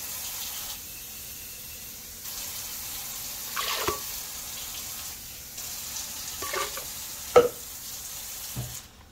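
Water poured into a hot pot of spicy food on the stove hisses and sizzles steadily, with a few louder bursts and clinks of cooking.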